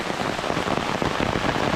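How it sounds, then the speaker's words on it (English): Heavy rain pours down in Kentucky woods during a storm, a dense continuous hiss of drops drumming on leaves and surfaces, loud and close with no talk. "Well, it's pouring."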